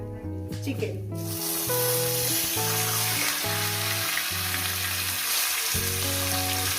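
Chicken pieces added to tempered spices and frying over high heat for a chicken curry: a loud, dense sizzle that surges after the first second and holds steady, with background music playing.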